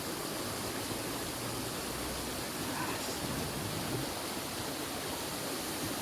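Water of the Ghubadi waterfall near Jawhar crashes down in a steady, broad roar, continuous and moderately distant with no other sounds.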